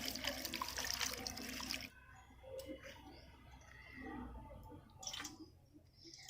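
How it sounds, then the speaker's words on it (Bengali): Chhana (fresh cottage cheese) being rinsed by hand in water in a home kitchen, a loud rush of pouring water for two seconds followed by softer sloshing, splashing and dripping. "তো আরও একবার আমি জল দিয়ে খুব ভালো করে ধুয়ে নেব।"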